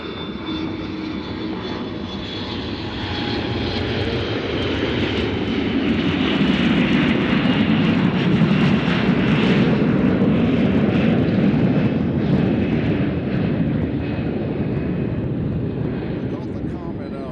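Embraer jet airliner at Nashville International Airport, a steady broad engine roar that swells and holds loud through most of the stretch, close by, with people talking underneath.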